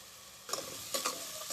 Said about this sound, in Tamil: கொஞ்சம் இதை வதக்கிட்டுலாம்.